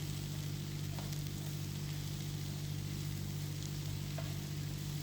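Okra (lady's finger) sautés in an open pan with a soft, continuous sizzle under a low steady hum and a couple of faint scrapes from stirring, with no voices.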